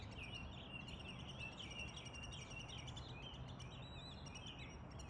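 Wild birds, including blue jays and cardinals, chirp and call repeatedly around a house, faint and distant over a steady background hiss.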